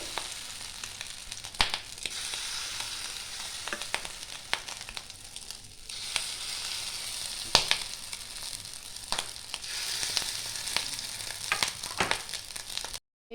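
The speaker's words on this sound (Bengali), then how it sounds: "এবার ডিমগুলো আমি ভেজে নেব।" Eggs frying in hot oil, a steady crackling sizzle with occasional sharper pops and faint clicks from the pan, close by.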